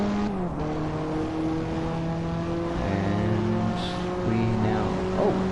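A race car's engine in the Assetto Corsa racing game drones steadily with a strong harmonic whine, easing off and picking up again as it sets up for a corner, loud and continuous throughout.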